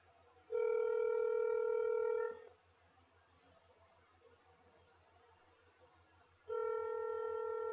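A telephone line during a call to a senator's office plays two long steady tones, one near the start and one near the end, separated by quieter line hiss with a faint rhythmic low hum underneath.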